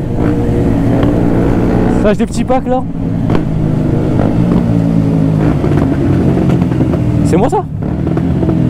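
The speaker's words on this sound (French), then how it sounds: "Oh, le shifter sur sa moto. Oh là là, ça pète et tout" A BMW S1000RR motorcycle revs loudly nearby, with sharp quickshifter pops cutting through the engine roar as people talk over it.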